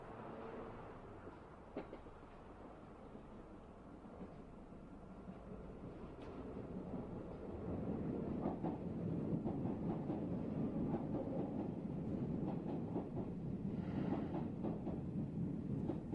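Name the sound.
train stopping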